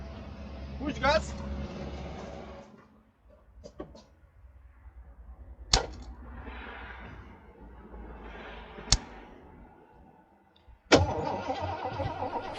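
An abandoned 1983 Ford F150 that has sat for five years cranks in several separate bursts without catching, with quiet gaps between attempts and a voice talking over parts of it.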